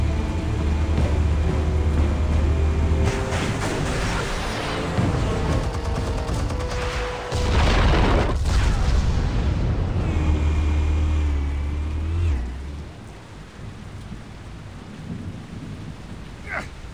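A heavy rumbling blast goes off in the Batman Telltale Series video game, carried by a loud low roar that rises and swells again before dying away, with debris-like crackle and no speech.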